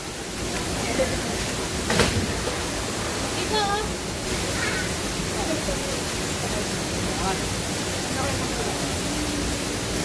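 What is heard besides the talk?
water flowing at a spring by a waterfall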